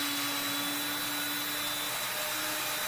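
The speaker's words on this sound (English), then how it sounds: "I'm just using little scraper, and I just run the drill" A drill spins a polishing wheel while a scraper is held against it, used to polish aluminum. It makes a steady, continuous whirring, grinding hum with a faint tonal whine and no talking.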